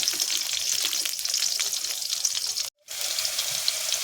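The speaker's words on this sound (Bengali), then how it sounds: "আলুগুলোকে আবার একটু নাড়া করে ভেজে" Small cut potatoes frying with salt in a pan make a loud, close, crackling sizzle with stirring scrapes, cut by a brief dropout near the end before the sizzle resumes, with nobody talking.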